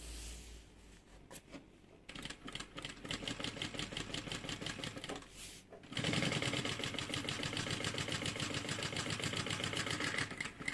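A sewing machine topstitches a fabric bag, a steady rapid stitching whir that starts softly, pauses briefly near the middle, then resumes louder and faster to the end.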